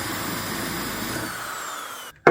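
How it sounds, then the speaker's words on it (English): A power drill running steadily as it bores out a spot weld on a Nissan 240SX quarter panel during a restoration, a continuous close whine that stops abruptly, followed by a short sharp bump. "I'm going to do is just grab a drill bit and drill that out a little bit more."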